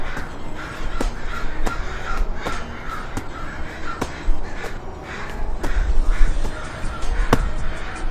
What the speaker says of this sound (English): The crows said they like that one.